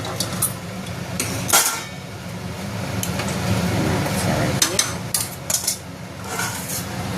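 Chicken for a do pyaza curry is stirred in a pan, with a spoon scraping and clinking against the metal in irregular bursts over a constant low kitchen hum.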